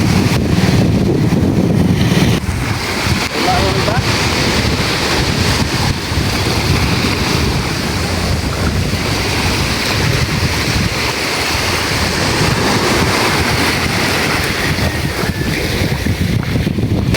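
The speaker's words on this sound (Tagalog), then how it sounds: "nandito na po kami sa tabing dagat" Steady wind buffets the microphone over a continuous rush of surf and breaking waves at the shore, with no voices, loud throughout.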